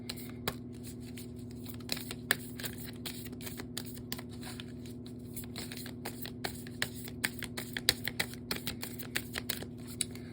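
Oracle cards are shuffled by hand before another one is drawn, a close, irregular run of soft slaps and riffling clicks that grows busier toward the end over a low steady hum.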